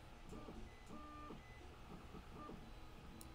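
A 3D printer printing a part for a scale car model, its stepper motors whining in changing tones with steady mechanical hum, close and continuous with no talk.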